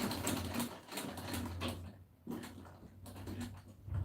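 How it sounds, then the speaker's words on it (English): A sewing machine back stitching light, non-weighty fabric: several short bursts of rapid mechanical whirring and clatter, separated by brief pauses, close and fairly quiet. "So please back stitch a lot of times at that point."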